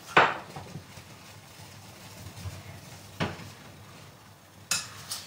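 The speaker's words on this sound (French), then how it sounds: "là je suis en train de faire cuire, fondre mon chocolat" Chocolate melting in a pan for a Pierre Hermé chocolate mi-cuit, with three or four sharp, close utensil clinks against the pan spaced a few seconds apart over a quiet, faintly hissing kitchen background, no voices.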